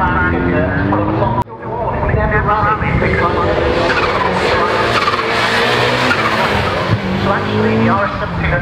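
A rally car drives hard at Castle Combe circuit during a rally day event, with loud sustained engine roar, tyre squeal and skidding, plus a commentator speaking over the noise.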